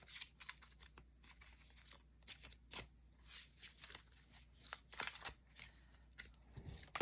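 Soft papery shuffling and card slides as three cards are drawn from a tarot deck, close and quiet, a run of small rustles and flicks with no talking.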